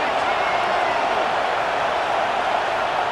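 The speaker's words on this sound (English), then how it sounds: "Listen to the crowd energy here in the early going" Stadium crowd noise from the NCAA College Football 26 video game on PS5, a loud, dense, steady roar of a big crowd that carries through without a break.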